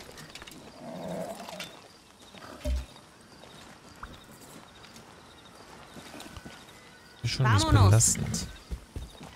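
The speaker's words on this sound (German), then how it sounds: "Ich brauche dieses Pferd." A horse in the video game Far Cry 6 gives a loud, close whinny near the end, after quieter game ambience with someone talking over it.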